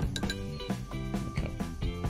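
A metal spoon clinks repeatedly against a bowl while stirring Thai dipping sauce, with a rhythmic series of close, bright taps over about two seconds.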